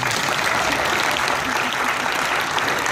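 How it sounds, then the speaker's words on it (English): A crowd at an auction opening breaks into dense, steady applause that holds evenly and fairly loud throughout, with no voices over it. "Give a round of applause for Mrs. Lentz."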